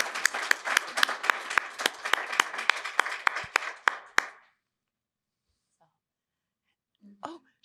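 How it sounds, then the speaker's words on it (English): Audience applause for judges at a tech challenge event, brisk scattered clapping from a modest crowd that fades out after about four seconds, followed by near silence and a brief voice. "All right, round of applause for the judges coming here at 10 a.m."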